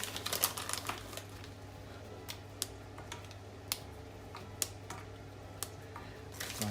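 A knife cutting a small chunk of chocolate for homemade chocolate custard, giving quiet, sharp clicks and taps at irregular intervals over a low steady background hum in a home kitchen.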